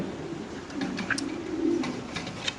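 A white Shouking pigeon coos softly and close, with a few light chirps over low background noise.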